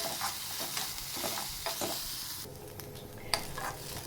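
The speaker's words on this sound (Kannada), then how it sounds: "ಸ್ವಲ್ಪ ಎಣ್ಣೆ ಹಾಕಿ ಇದನ್ನ ಫ್ರೈ ಮಾಡ್ತಾಯಿದ್ದೀನಿ" Okra sliced for a vegetable palya fries in oil in a pan, giving a steady hiss and sizzle with scraping stirs and a sharp clink near the end. The sound is close and heard alone.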